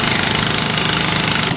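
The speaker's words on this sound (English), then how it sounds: "You can actually hear this manual pressure release valve releasing the pressure that's being built up as the pump continues to spin with the engine at idle." A DeWalt engine-driven air compressor idles while its manual pressure release valve vents built-up pressure, giving a steady, loud, close chugging engine rumble with a continuous hiss of escaping air layered over it.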